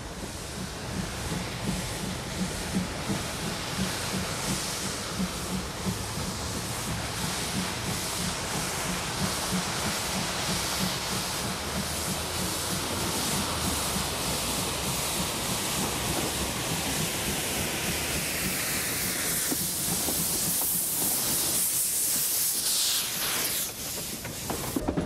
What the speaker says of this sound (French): À 16h, la 403 s'ébranle à son tour, tout purgeur ouvert.